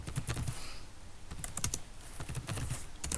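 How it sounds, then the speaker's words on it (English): Rapid bursts of typing on a computer keyboard during a GTK programming session, close and crisp, with clustered keystrokes separated by brief pauses and no talking. "So I'm going to type it again"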